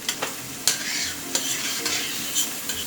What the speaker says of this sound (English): We're going to saute that onion first.